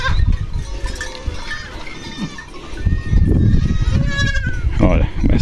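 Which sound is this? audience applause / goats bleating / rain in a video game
goats bleating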